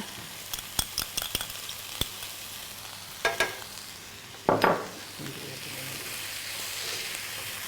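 Courgettes sizzle in a hot pan under a steady frying hiss, punctuated by sharp utensil taps against the pan and a few scraping stirs; quiet, close, with no talk.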